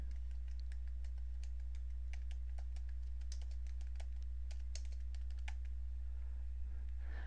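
Fingers tap steadily on a computer keyboard, with soft clicky keystrokes in irregular runs over a loud constant low hum.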